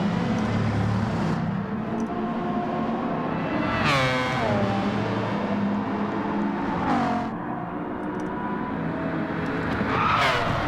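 Race car tyres skid and squeal under braking in Gran Turismo 7, several rising and falling screeches over a steady engine drone, loud and close, with no talking.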